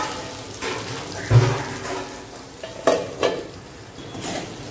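Potatoes frying in a pan for aloo bhindi are stirred, giving soft scraping and sizzling with a few louder stirring bumps, close by and alone without talk.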